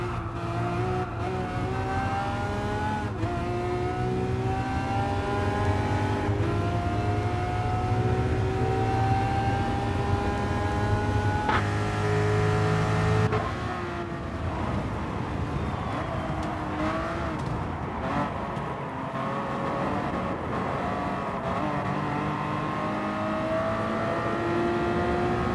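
A 1966 Ford Mark 1 race car engine in a racing video game drones loudly and steadily with rising and falling revs and gear changes, a rougher, busier tone taking over midway as other cars close in.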